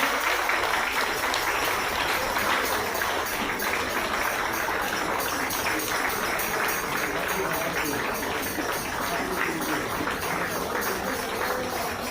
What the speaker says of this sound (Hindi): आप लोग सभी खड़े हो जाएं और जोरदार ताली बजाएं